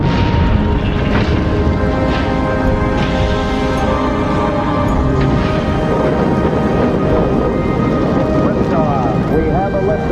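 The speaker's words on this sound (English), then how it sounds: "We have a liftoff, 32 minutes past the hour. Liftoff on Apollo 11." The Apollo 11 rocket lifts off with a dense, continuous roar that holds loud and steady throughout, with a launch commentator talking over it.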